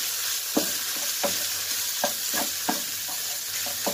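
Ham is stir-fried for homemade fried rice, a constant crackling sizzle broken by regular spatula scrapes and taps against the pan about every half second, close and clear with no talking.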